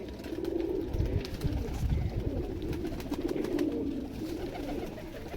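Pigeons cooing close by in a loft, low soft rolling coos repeating in overlapping waves, with faint rustling and no voices.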